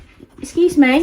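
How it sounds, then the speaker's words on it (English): A dog in a room gives a high, whining whimper, rising and wavering, close by, while someone speaks briefly over it. "it's because I have 3 dogs in this room with me at the moment."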